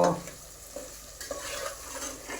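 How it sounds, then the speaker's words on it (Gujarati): Dal being tempered in a pot with onion and garlic, heard as a faint, soft sizzle with light stirring scrapes and occasional clinks, quiet and close with no talking. "દાળ વઘારે છે તો દાળ જો આવી રીતે વઘારવાની"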